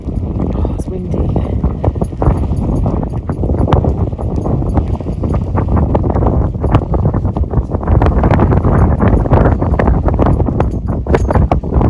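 Strong wind gusts over a boat riding at anchor in an anchorage, loud continuous buffeting with irregular thumps and knocks from the vessel, and a voice speaking in places.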